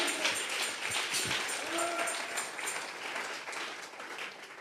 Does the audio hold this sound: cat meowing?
no